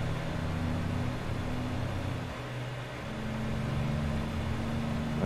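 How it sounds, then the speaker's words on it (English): A car drives close by in the American Truck Simulator video game, heard as a steady low engine hum and road rumble that runs on without a break for several seconds. "I can hear a car. Is that car behind it? It must be behind us."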